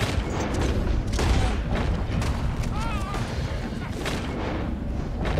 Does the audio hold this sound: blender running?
no